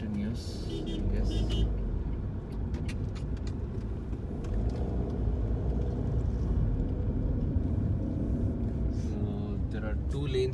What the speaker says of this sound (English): Traffic continues, I guess.